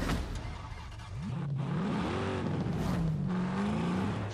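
A tuned car in Forza Horizon 5 accelerates hard, its engine revving up through rising, swooping pitch sweeps close by and loud, with no talk over it.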